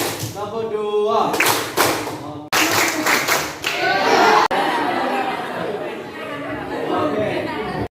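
Students at a school parenting and anti-bullying event clap in short rhythmic bursts, loud and close, with crowd chatter between the claps and an adult voice speaking over them.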